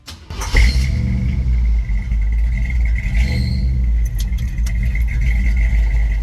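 A car engine cranks and catches, then settles into a steady rumbling idle with a sustained whine above it and a few faint clicks and taps later on.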